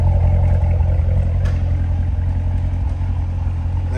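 A 2019 Chevrolet Corvette Stingray Coupe running, heard from behind at the exhaust trumpets: a loud, close, deep engine rumble that holds steady with a slight rough pulse for a few seconds.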